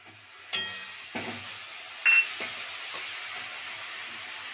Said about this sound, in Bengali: পেঁয়াজটা হালকা ভাজা হয়ে গেছে, আমি এখন আদা রসুন পেস্টটা দিয়ে দিলাম।